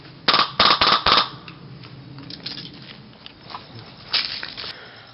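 A Polar Star Fusion Engine airsoft gun in a G4 fires 0.25 g BBs at 100 psi during a chrono test: four sharp, loud pops in quick succession, then a few fainter, scattered clicks and shots.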